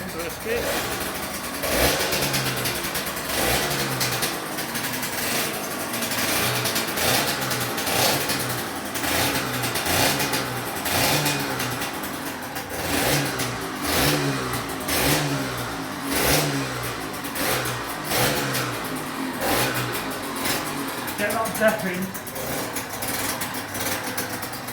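A Yamaha DT125R dirt bike engine, with choke on, sputters and revs repeatedly at close range after a kick start, rising and falling in bursts for a long stretch, with voices talking over it.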